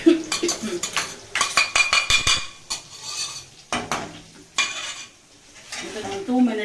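Chili chicken with green chili sauce being stirred and fried in a pan, with repeated scraping and clinking of a metal utensil against the pan over a soft sizzle.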